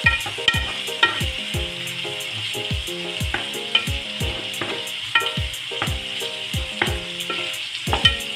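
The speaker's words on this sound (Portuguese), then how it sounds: "Mesclamos tudo." Vegetables and sweet paprika frying in a pan, stirred with a utensil: steady close sizzle broken by repeated scraping strokes and clinks against the pan, with no voices.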